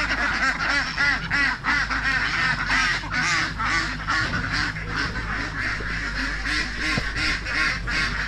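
A flock of domestic ducks being herded outdoors, quacking continuously in overlapping calls, loud and close throughout.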